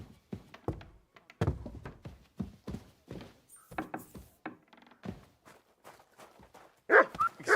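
A dog barks in a medieval village in Kingdom Come: Deliverance II, a run of short, loud woofs spread across the clip, with clopping hooves and thumps mixed in and no speech over them.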